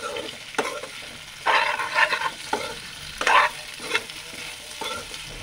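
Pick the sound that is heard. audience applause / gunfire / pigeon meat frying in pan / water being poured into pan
pigeon meat frying in pan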